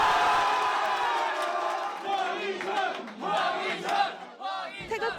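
A large crowd of football fans in cheering gear roars and yells for South Korea's national team, a loud mass of shouting voices that swells, dips and rises again in waves.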